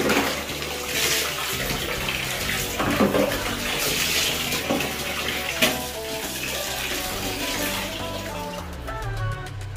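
Tap water runs steadily in a bathroom being cleaned, a continuous hissing splash close by that stays fairly loud throughout.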